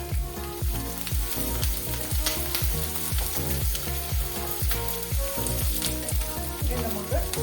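Sliced green chillies sizzle loudly in hot oil for fish pickle, a steady, dense crackle with rhythmic stirring scrapes repeating through the whole stretch, close and without voices.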